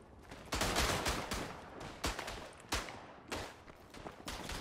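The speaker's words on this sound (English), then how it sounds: "they're just spamming it with machine gun" Machine gun fire in the World War I shooter Verdun, loud bursts of rapid gunshots cracking in quick succession with short gaps between volleys.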